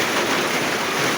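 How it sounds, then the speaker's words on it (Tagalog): Steady rain falls in a garden, a dense even hiss of drops that is loud and close, unbroken throughout the brief stretch. "Ulan oh."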